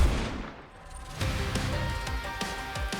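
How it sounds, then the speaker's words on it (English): Rifle fire from Snow White in the video game Goddess of Victory: Nikke, a loud sustained volley of gunshots with rolling booms and crackling impacts over a dense game soundtrack, no talking. "Snow White fires her rifle."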